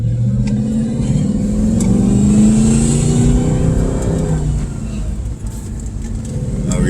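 A 6-speed manual Audi S4 quattro runs nearby with a deep, steady engine rumble and a rising, revving tone that then settles back down.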